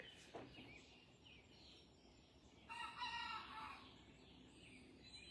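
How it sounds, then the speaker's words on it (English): A farm rooster named Copper crows once on a porch among a flock of about sixty chickens, a faint, drawn-out cock-a-doodle-doo over soft background clucking and ambient hiss. "When Copper crows, he sounds like he's going, Mississippi"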